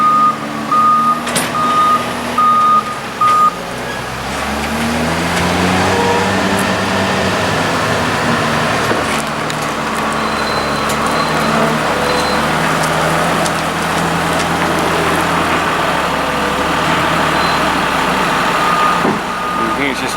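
A trailer truck reverses during a maize harvest, its backup alarm beeping in a steady repeated series over a loud, continuous engine drone, with scattered beeps later on.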